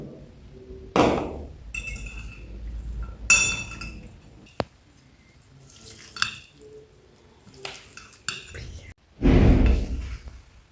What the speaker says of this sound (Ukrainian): Все перемішуємо.